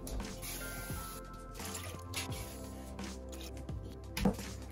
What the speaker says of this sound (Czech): Dám tam litr vody.